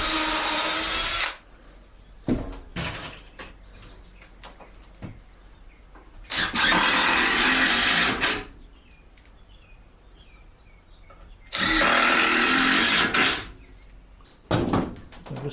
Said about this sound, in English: Drill your holes.